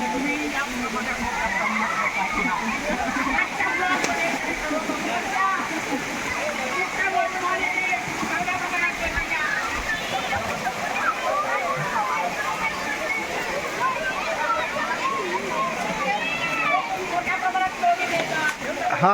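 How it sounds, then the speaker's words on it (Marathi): Rushing water from the Muktai waterfall in Chimur taluka forms a loud, steady roar that fills the whole clip, with people talking over it. "आहे धबधबा"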